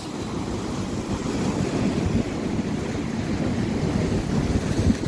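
Sea waves wash steadily against a rocky shore on the Italian coast, a continuous broadband surge with gentle swells rising and falling, heard alone at moderate level with some wind buffeting the microphone.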